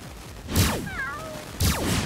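Two sharp, close cat meows with falling pitch ring out in the Ejen Ali: Emergency video game as a cat is hit, with a short electronic chirp between them over faint background noise.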